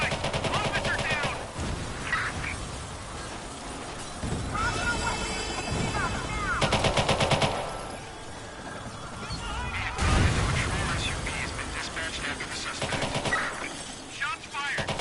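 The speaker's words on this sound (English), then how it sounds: "Shots fired!" Bursts of gunfire from the video game Watch Dogs 2 during a police shootout, loud repeated volleys with crashing impacts, mixed with shouting voices over the action.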